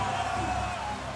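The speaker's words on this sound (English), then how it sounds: "Onodera, the booing starts." An arena crowd at a Japan vs Poland men's volleyball semifinal gives off a sustained, loud roar of booing and jeering, with a commentator's voice over it.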